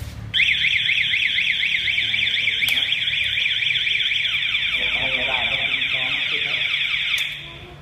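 A motorcycle anti-theft alarm on a Honda CB650F wails continuously in a fast warbling siren pattern, loud and close, holding steady for several seconds before cutting off near the end.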